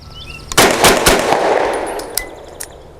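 A Grand Power Stribog SP9A3G carbine fires suppressed subsonic rounds: a quick burst of several loud, close shots with a metallic clack, each one muffled, followed by a brief ringing tail.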